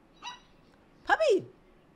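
A small puppy gives a short yip, then a longer whining bark that slides downward, both brief and fairly faint against a quiet background.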